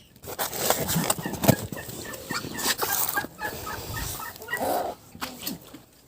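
Turkeys gobbling and clucking in a farmyard where ducklings are hatching, a string of repeated calls at moderate distance with some background shuffling.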